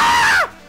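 A man screams loudly in one sustained, high yell that bends downward and cuts off abruptly after under half a second, close and alone.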